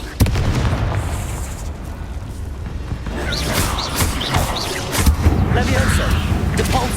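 A Confringo blast spell in Hogwarts Legacy goes off inside a tomb, loud booming bursts with crackling debris and a lingering rumbling tail.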